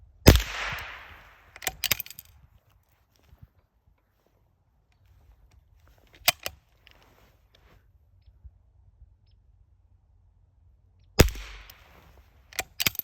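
A Lee Enfield SMLE Mk IV* rifle converted to single-shot .22 long rifle fires subsonic rounds: two sharp cracks about eleven seconds apart, with faint clicks of handling in the quiet between.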